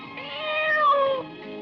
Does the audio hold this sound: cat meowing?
yes